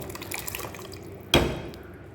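Ground paste mixed in tamarind water poured into a curry pan for a bitter gourd theeyal, a brief wet splash and slosh rising suddenly over low kitchen background noise, then trailing off.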